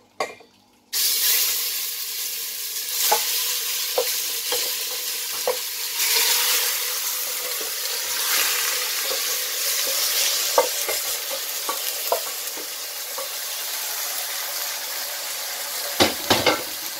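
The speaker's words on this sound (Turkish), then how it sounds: "Şimdi ilk önce eti koyduğum zaman cız diye bir ses gelecek." Tough meat sizzles and crackles loudly in a hot pot, a steady frying hiss with scattered sharp pops and occasional stirring clatter.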